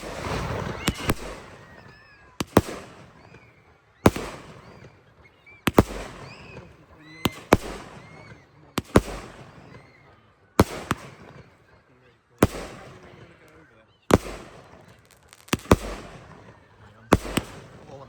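Firework mortars burst at an outdoor school fireworks display in Southwold, with a dozen sharp booms spaced a second or two apart, each followed by crackling and fading rumble, while people talk nearby.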